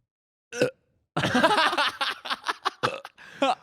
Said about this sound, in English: One burp, guys. I'm getting it out.